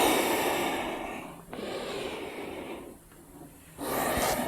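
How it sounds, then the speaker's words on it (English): Slow, audible breaths during a yoga child's pose, each inhale and exhale drawn out in long hissing swells with brief pauses between, close and fairly soft. "just breathing."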